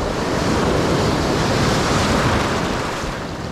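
Rough ocean waves break on the shore, a loud, continuous roar of churning surf mixed with heavy wind buffeting close to the microphone.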